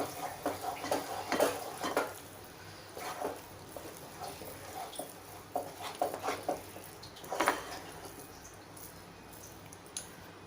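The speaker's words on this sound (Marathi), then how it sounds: "आपण बघूया झाकण काढून छान हलवून घ्यायचं आहे" A lid comes off and zunka, a Maharashtrian gram flour dish, is stirred in a pan, giving soft irregular scrapes and clatters at low volume over a faint steady background.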